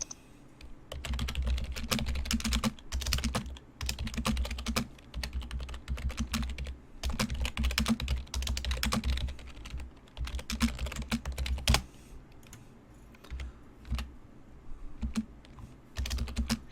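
Fingers type on a computer keyboard during a Warhammer tabletop role-playing session, clattering in quick, uneven bursts with short pauses, close and fairly loud, with no voices.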